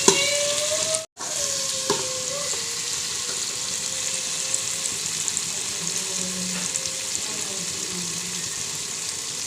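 Masala of green chilli, tomato and ginger-garlic paste frying in ghee for shaljam gives a steady, close sizzle. A brief gap comes near the start, and faint stirring is heard over the continuous crackle.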